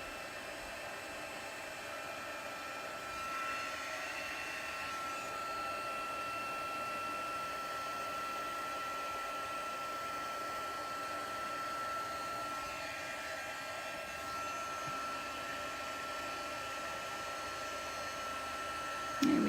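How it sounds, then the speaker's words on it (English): A heat embossing tool blows hot air over stamped flowers on a handmade card, a steady, even whirring hiss that holds for nearly twenty seconds before a brief click at the end. "So that's all the heat embossing of the flowers."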